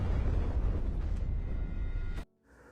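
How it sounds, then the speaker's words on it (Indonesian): A loud, rumbling explosion bursts through a building in an action film scene, a dense, roaring blast that fills the moment before cutting off abruptly into near silence at the end. "tiba-tiba mereka pun dikagetkan dengan suara ledakan"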